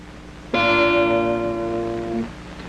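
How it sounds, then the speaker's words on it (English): A guitar string plucked near the bridge gives a bright, sharp, twangy note with a crisp attack; it rings clearly for under two seconds before stopping, solo and close. "Whereas down near the bridge, we get an extremely sharp sound"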